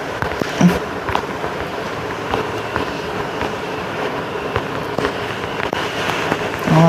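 Bomb explosions in a Tamil multiplayer video game match: a dense, continuous crackle of small bursts and pops, fairly loud and without voices.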